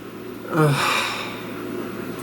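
One deep audible inhale with a rushing breathy quality rising then easing off, close to the microphone over a faint steady background tone.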